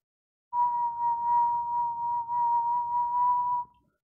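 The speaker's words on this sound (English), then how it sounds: "let me try and give it a pure sine wave" Pure sine wave test tone from a tone generator, a single steady pitch held loud and constant for about three seconds before cutting off cleanly.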